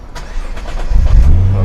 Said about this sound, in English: Okay, now it starts. Just listen to that V6 roar.